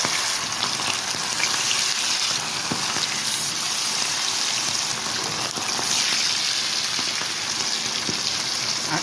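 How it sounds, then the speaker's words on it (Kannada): Green chilli kababs sizzle steadily in hot oil over high flame, a continuous, close, fairly loud frying hiss with faint bubbling pops throughout and no talking. "ಇವಾಗ ಬೇಯ್ತಾ ಇದೆ ಕಬಾಬು."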